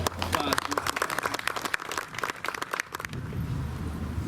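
Audience applause at a Juneteenth 2021 community gathering in Benicia, California, a dense burst of clapping that runs steadily for several seconds and then thins out, with voices mixed in.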